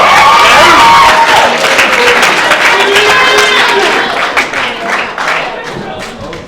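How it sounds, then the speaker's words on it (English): A round of applause from guests at an evening celebration, loud and close, mixed with cheering, chatter and a few voices talking over the clapping, which gradually thins toward the end. "Yeah, round of applause."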